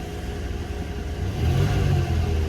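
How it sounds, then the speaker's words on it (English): A 1991 Ford LTD Crown Victoria fire department car with new mufflers idles with a low, quiet rumble, then its engine revs up briefly to a deeper, fuller drone partway through. "no exhaust ticking when you give her a little bit of gas"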